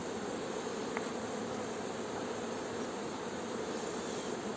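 Honeybees buzz steadily around an open beehive while the hive is worked with a queen excluder and super. The hum is dense and continuous, moderately loud and close, with no voices.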